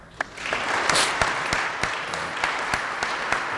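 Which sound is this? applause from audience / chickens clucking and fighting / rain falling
applause from audience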